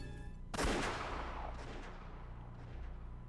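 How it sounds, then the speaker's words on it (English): A single sharp gunshot in the game Umineko no Naku Koro ni cracks loudly, then rings out in a long echoing tail, followed by a few fainter distant pops. "Gunfire."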